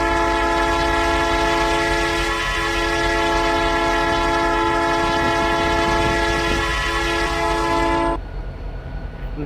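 Diesel freight locomotive horn from the RO-Scale Sandbox game, modelled on Canadian freight trains, blares as a loud sustained multi-tone chord for about eight seconds alone, then cuts off abruptly into a quiet rumble.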